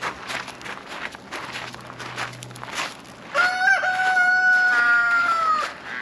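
Backyard chickens at a coop, with soft clucking and footsteps at first, then a rooster lets out a loud, sustained crow lasting a couple of seconds nearby.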